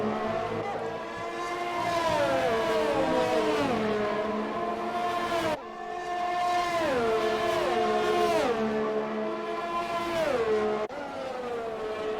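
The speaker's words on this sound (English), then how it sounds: "So Mr. Spicer overtakes his teammate, who's currently just AI" Race cars in a racing video game, set at Monza, wail past one after another with high, rising and falling engine notes that shift gear repeatedly, loud and continuous with no talk.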